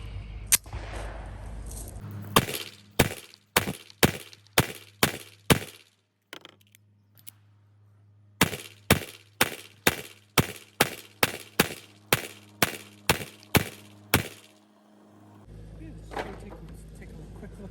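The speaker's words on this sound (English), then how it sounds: "I have some more of the dynamic defense, jacketed hollow point. Let's just keep shooting." Beretta 80x pistol firing Dynamic Defense jacketed hollow point rounds at an outdoor range: a string of six sharp shots in steady rhythm, a pause, then about twelve more evenly spaced shots, loud and close, with light background noise between.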